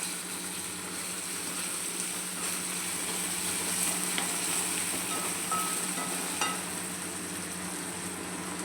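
Onion and tomato sizzle steadily in a pan as the base for paneer bhurji, a soft continuous frying hiss with occasional faint stirring clicks and no talking.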